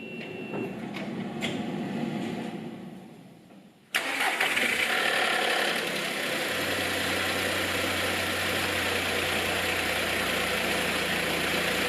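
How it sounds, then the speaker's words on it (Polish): A VW Polo 6R 1.2 12V engine, after a timing replacement, cranks and catches with a sudden roar, then settles into a steady, loud idle that drones on to the end. "Pora, żeby uruchomić silnik, także uruchamiamy silnik."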